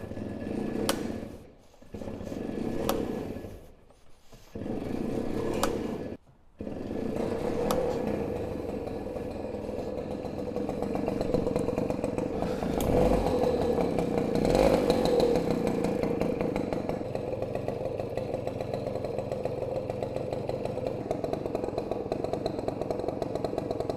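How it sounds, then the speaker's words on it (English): A small two-stroke engine of a 1978 Garelli GranSport 50cc moped sputters through a few short bursts and cutouts, then catches and settles into a steady, buzzing idle close by. "That's how you start a 1978 Garelli GranSport moped."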